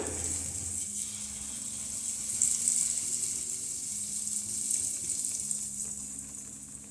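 Malpua batter frying in ghee in a pan makes a soft, continuous bubbling sizzle with a low background hum, rising slightly midway; nobody speaks.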